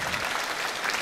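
An indoor audience at a concert gives a steady round of applause for a performer, with dense, continuous clapping and no voices.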